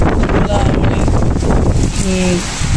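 Strong wind roars across a rooftop during a rainstorm as a loud, steady broadband rush that lasts the whole time, with a few brief, faint tonal sounds near the start and the end.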